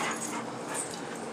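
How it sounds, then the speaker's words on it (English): A puppy whimpers and whines in short, high, close cries over steady room noise, with no talking. "Don't you hurt my puppy again, Raster."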